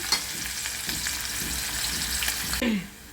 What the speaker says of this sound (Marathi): कांदा आपला भाजत आलेला आहे